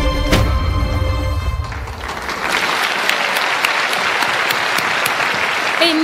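An award ceremony audience claps at length, a dense, steady wash of applause that swells after a brief dip and then holds loud and even, with no talk over it.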